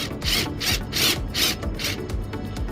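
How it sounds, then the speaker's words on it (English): Rhythmic grinding rasps of a drill biting into metal rivets, drilling off rivet heads on a Nissan 350Z soft-top, about six bursts in a row, close and fairly loud. "So on these rivets, all we're gonna do is go ahead and drill them off."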